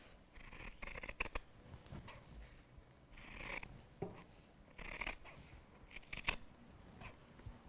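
Scissors snip through cushion fabric along a chalk line, cutting a long spiral strip; quiet, close, intermittent blade clicks and slicing bursts separated by short pauses, with no voice.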